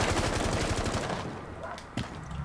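Rapid automatic gunfire from Rainbow Six Siege rattles loudly and close for over a second, then a softer single shot follows amid lingering in-game ambience.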